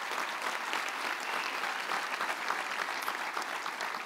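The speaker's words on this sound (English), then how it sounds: "One more round of applause for all those people." Applause at a university graduation ceremony: a large audience claps continuously, a dense, even patter that holds steady from start to end with no voices.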